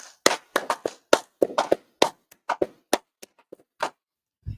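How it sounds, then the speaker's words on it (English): Sharp hand claps ring out one after another in an uneven burst, loud and close, with short gaps between them and no talking over them. "Israel, clap it up."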